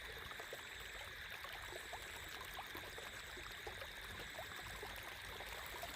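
Steady, faint rushing of flowing water, even and continuous throughout with no voices.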